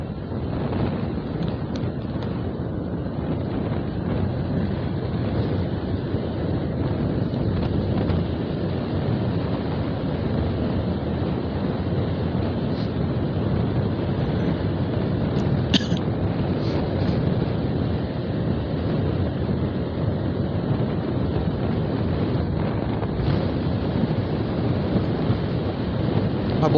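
Steady rushing wind buffets the microphone while riding a Honda Click 125 scooter, a continuous loud roar with the engine buried beneath it and no talking.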